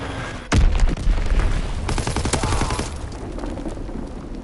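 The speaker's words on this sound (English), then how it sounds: "Enemy bomb incoming." An enemy bomb blasts in a video game with a sudden loud boom, followed by several seconds of rolling rumble and crackling gunfire-like bursts that slowly fade.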